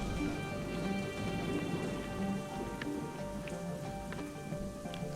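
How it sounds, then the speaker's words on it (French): Steady rain patters and hisses close by, with scattered sharper drops against a surface and no voices. "Heureusement, la pluie ne durera pas très longtemps."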